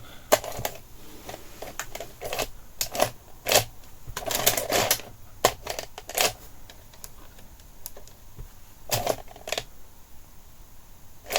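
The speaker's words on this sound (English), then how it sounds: "Oh, I just press eject." A Sharp VC5M6E multi-standard VHS video recorder, in faulty condition, ejecting a tape: a run of close, sharp mechanical clicks and clunks, with a busier cluster of whirring and clatter midway before more scattered clicks.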